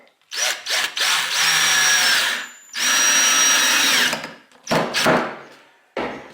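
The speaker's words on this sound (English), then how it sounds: "drive in some more of these 3/4 inch screws, the same ones I'm going to use on the back side" A power drill drives 3/4 inch screws into wood for a dowel rod coat rack, loud close bursts of whirring motor that bog down as each screw seats, with short pauses and brief clicks between runs.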